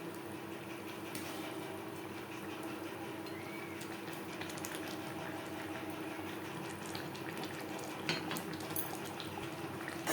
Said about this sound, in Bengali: গ্রেভির সাথে মাছ আরও 3-4 মিনিট রান্না করব